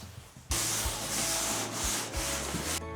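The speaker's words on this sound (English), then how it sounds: "For areas where it's just like dust on the wall, I can use the sander." An electric sander works across a painted wall in a 19th-century rowhome, giving a steady, close abrasive whir that starts abruptly and runs with slight dips and no talking.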